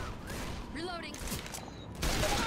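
Gunfire in the zombie shooter Left 4 Dead, a few quick bursts of game shots amid clattering effects and overlapping voices, ending in a louder burst.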